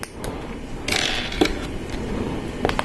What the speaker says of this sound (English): we have some Technic bricks that we're going to put some friction pins inside them